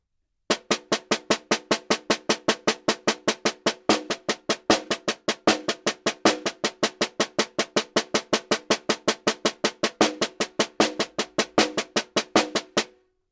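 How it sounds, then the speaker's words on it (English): Snare drum played as a steady stream of even sixteenth-note taps with accents falling on the left-hand "e" of each beat, crisp and close, continuing for about thirteen seconds without any talking. "now we're simply going to put the accent on the left hand on E"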